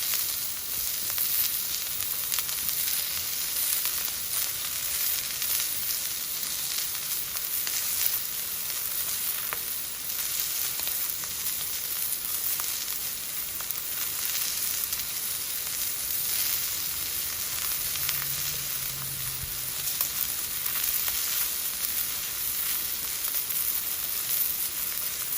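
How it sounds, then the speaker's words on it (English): Beef pot roast searing in a hot pan gives a steady, bright sizzle that lasts the whole time. It is close, loud and even, with faint stirring and no voices. "We're just cooking the outside a little bit, giving it that browning, that Maillard reaction"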